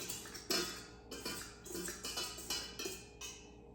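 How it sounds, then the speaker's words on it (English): Dry waffle ingredients get a light whisking in a bowl, producing rhythmic bursts of clinking and scraping, about six strokes in under four seconds, fairly quiet and close with no talking. "I'm just going to give these a light whisk."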